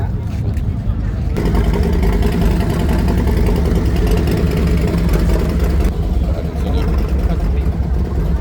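Several motorcycles, Harley-Davidsons among them, idle at a biker welcome event. They give a steady, loud, rumbling drone with no pause, and people talk over it.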